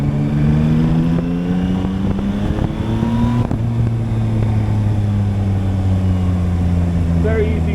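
A Yamaha MT-09 motorcycle on a test ride pulls away from traffic. The engine drone rises steadily in pitch, loud and close, with a gear change partway through and wind rush over it.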